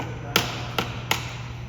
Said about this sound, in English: So just go in here with the screwdriver, give it a smack.